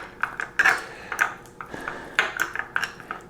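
Metal utensil clinking and scraping against a bowl while basil, minced garlic and butter are mixed together, with a handful of bright, irregular taps and clanks close up and no talking.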